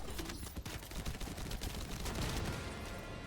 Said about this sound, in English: Assault turret, Assault turret activated.